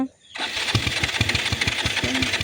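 A faulty motorbike that has broken down mid-road splutters to life after a moment of quiet, its engine chugging in quick, uneven pulses close by.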